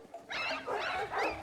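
A man imitates a dog, giving several short barking yelps in quick succession, loud and close, with no other voices.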